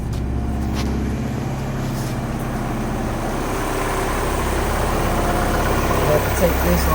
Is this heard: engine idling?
yes